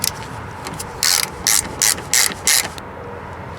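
A ratchet tightens bolts on the fuel filler neck bracket of a rusty 2002 Mitsubishi Lancer, five or six loud, close clicking bursts in an even rhythm, then it stops.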